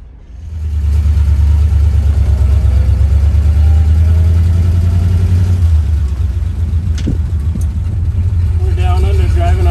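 A 1934 Ford Phaeton with a flathead engine rumbles steadily as it drives, a loud low drone that swells in after a quiet start and continues under occasional speech.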